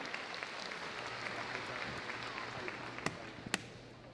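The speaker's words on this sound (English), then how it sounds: "Nice round of applause for it." Audience applause fills the arena after a freestyle heelwork to music dog routine at Crufts 2014, a steady, moderately distant clapping wash with a couple of sharper claps near the end.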